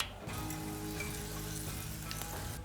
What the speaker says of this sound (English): I'm going to put on a little bit of oil, and in that oil I'm going to fry my tortillas.